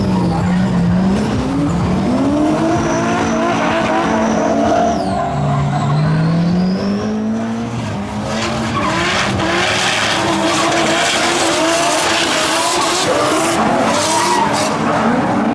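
An RB25-gearboxed drift car squeals its tyres through long sliding arcs, the pitch of the screech rising and falling over a loud engine roar that stays close and continuous.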